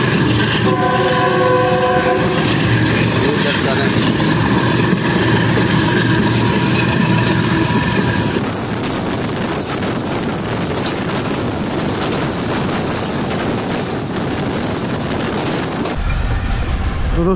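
A Tezgam passenger train running after leaving Nawabshah, its horn blaring in long sustained blasts over loud rolling wheel and carriage noise, then giving way to steady clattering rail rumble and wind buffeting.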